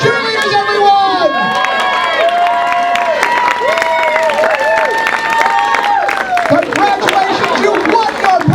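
A college crowd at a hypnotist stage show keeps cheering loudly, with whoops, clapping and excited shouts forming a dense, continuous roar.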